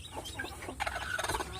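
A mother hen and her day-old chicks, about seven of them, call close by. Short soft clucks and chirps come in quick, overlapping bursts with no voices.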